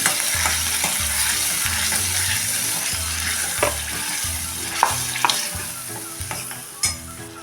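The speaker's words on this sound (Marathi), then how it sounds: "पहिल्यांदा आपण तेल सुटेपर्यंत परतून घेऊया" Onion-tomato paste with curry leaves sizzles loudly in oil for an amti, a continuous close hiss with regular spatula scrapes and a few sharper clinks as it is stirred, no speech.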